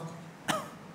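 A single short, faint cough or throat-clearing from a man sounds in a quiet room, a brief isolated burst.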